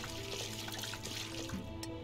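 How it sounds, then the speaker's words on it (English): Paint splashes from a bucket being poured in the painting game SuchArt, a steady liquid gushing and sloshing that runs continuously throughout with no voices over it. "Oh my God, a bucket of paint. All right, I'm ready to try it. Let's rotate around and pour it on."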